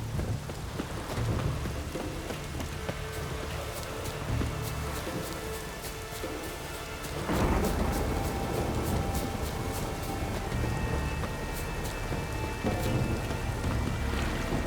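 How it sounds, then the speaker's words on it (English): Steady rain patters and hisses throughout in the video game The Witcher 3: Wild Hunt, with a deep rumble of thunder rolling in midway; no one speaks. "Maybe we needed a spot of rain."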